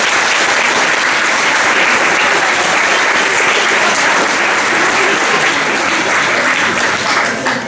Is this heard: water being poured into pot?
no